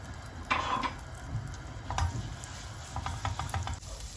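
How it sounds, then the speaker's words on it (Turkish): Tomato paste and a spoonful of flour sauté in sunflower oil in a home kitchen pan, a quiet low sizzle broken by a few light scraping stirs and clicks. "Şöyle bir yemek kaşığı da ununu ekledim. şöyle kokusu çıkana kadar kavuruyorum."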